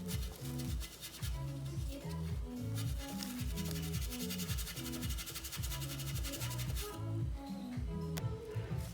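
Steady rubbing and scrubbing strokes work surface rust off a Honda CB350 motorcycle fender, a faint repetitive scratchy back-and-forth rhythm with no talk.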